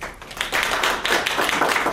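Audience clapping in a lecture hall after a history talk on the Central of Georgia Railroad, steady, dense applause from many hands lasting the whole moment, no voices over it.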